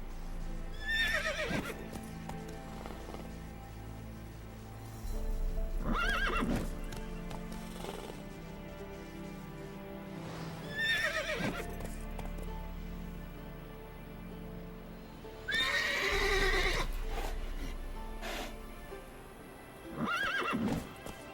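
Roach, Geralt's horse in The Witcher 3, gallops with steady clip-clop hoofbeats through open grass while repeated loud whinnies and neighs break out every few seconds over the game's ambience.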